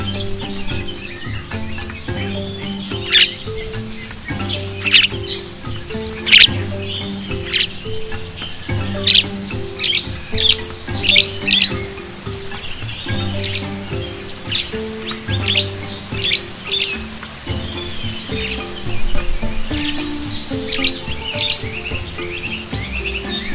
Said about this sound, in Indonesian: di The Hakims Apiari juga ada burung madu kelapa.